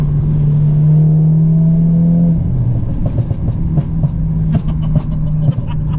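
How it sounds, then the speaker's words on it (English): 410bhp Audi S3 accelerating hard, a loud sustained engine drone that drops in pitch before a rapid run of sharp exhaust pops and crackles from the flames. "That flame shakes the car."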